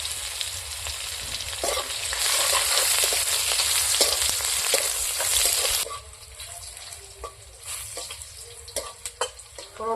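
Panch phoron spices hitting hot oil in a small pan with chillies, onion and garlic, a bright loud sizzle that builds and holds, then drops to a quieter crackle with sharp spatula taps against the pan.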